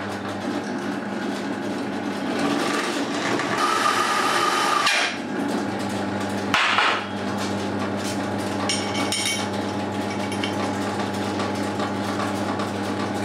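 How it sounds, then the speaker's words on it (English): A power drill whirs steadily as it countersinks a hole in metal, with a brief louder burst of cutting and a sharp knock midway. "So we can now start up the drill and countersink one hole."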